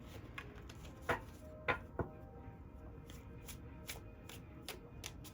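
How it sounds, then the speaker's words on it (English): Whispers of Love oracle cards are shuffled and pulled by hand. Close, soft riffling and sharp card snaps come in uneven bursts against a quiet room, with no voices. "let's pull some of these whispers of love cards"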